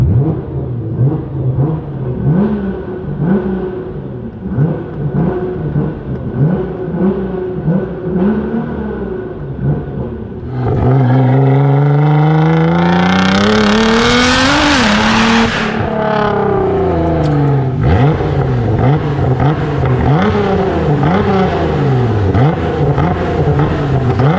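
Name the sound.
Nissan GTR R35 engine revving in neutral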